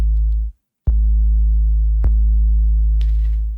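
An ADs-8 analog drum machine holds a deep, sustained pitched drum tone with a low 808-style bass character. The tone cuts out briefly and sharp clicks punctuate it, with a faint higher hiss near the end.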